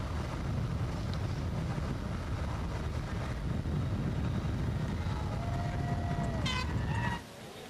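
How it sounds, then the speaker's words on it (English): Wind roars steadily across the microphone on a road cycling team time trial course at the 2015 Road World Championships in Richmond, a broad continuous rush with a brief horn-like tone near the end before it drops away. "little bit windy out on this section of the course now"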